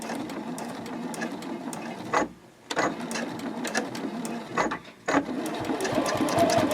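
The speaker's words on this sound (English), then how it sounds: "We're going to top stitch out from the edge to the pin" A sewing machine top stitching the edge of a boxy makeup bag at a long stitch length runs in steady rapid bursts, pausing briefly twice before resuming, close and clear.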